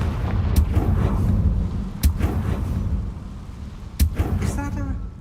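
A Confringo spell blast in the Hogwarts Legacy video game: sharp booming impacts near 0.5, 2 and 4 seconds over a steady low rumble of game ambience, closing with a brief tonal chime.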